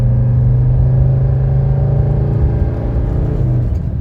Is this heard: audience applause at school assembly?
no